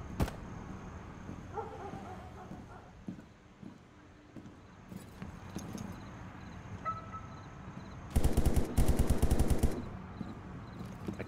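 Burst of rapid automatic gunfire in the tactical first-person shooter Zero Dark, a dense loud volley of about a second and a half following quieter game ambience and scattered small clicks.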